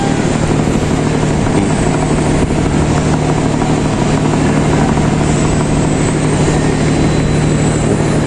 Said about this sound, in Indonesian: anginnya lumayan kenceng juga.